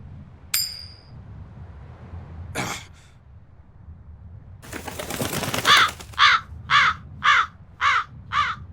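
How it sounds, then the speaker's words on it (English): A crow in Tales of Berseria gives a run of about six harsh, evenly spaced caws at close range, preceded by a rustling burst of wingbeats as it takes off; no one speaks. "That crow just flew off with the coin!"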